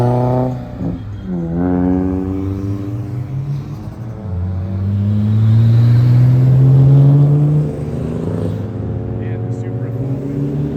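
A car leaving a car show revs hard and pulls away, its engine note climbing in stepped harmonic sweeps, swelling to a loud rumbling peak, then fading as it departs.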